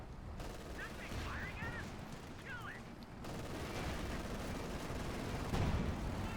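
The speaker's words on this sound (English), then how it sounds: "Going for the MG42 there" MG42 machine gun fire in the Company of Heroes 2 game crackles in rapid bursts amid a dense, noisy battle soundscape, with faint whistling effects early on and a thump near the end.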